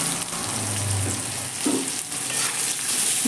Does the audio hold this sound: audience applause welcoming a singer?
no